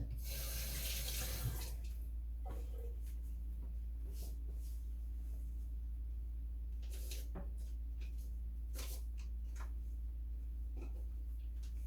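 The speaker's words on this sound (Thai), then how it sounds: "ขออนุญาตล้างมือ" Hands being washed under a running tap at a kitchen sink, a steady close stream of water pouring for the whole stretch, with light knocks and clatter of items at the basin; no one speaks.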